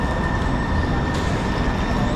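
Seattle monorail train rolling past downtown, a steady, loud rumbling roar with a thin high whine running through it, close by and continuous for the whole moment.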